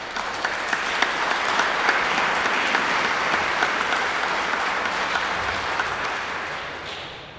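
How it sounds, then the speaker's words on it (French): Congregation at Sunday mass in a sanctuary breaking into sustained, full applause that holds steady for several seconds and tapers slightly at the end, with no speech over it. "On va tous les applaudir,"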